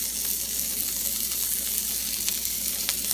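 Chorizo frying in a pan gives a steady, close sizzle with small crackles and pops throughout, alone with no talking.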